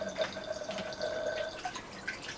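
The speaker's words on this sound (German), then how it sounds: "Da läuft auf jeden Fall das Wasser gerade von oben wieder nach unten zurück." Water in an ebb and flow greenhouse system drains back down through a hose, making a soft, continuous trickling and gurgling with faint drips, quiet and close, and no one talking.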